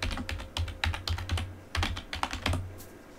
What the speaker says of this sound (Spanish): Escribimos nuestra contraseña.